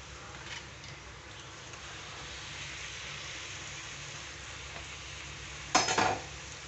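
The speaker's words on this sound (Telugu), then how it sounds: "ఆయిల్ హీట్ ఎక్కిందండి, పూరి వేసుకుందాం." Puri frying in hot oil makes a steady, moderate sizzle throughout, with a louder crackling burst near the end as the dough is stirred or turned in the pan.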